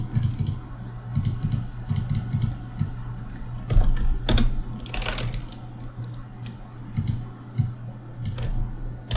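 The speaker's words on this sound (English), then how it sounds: "So typing noises begin right now" Close, crisp computer keyboard typing while coding, in uneven bursts of rapid keystrokes with brief pauses and a few louder key thumps, over a faint steady hum.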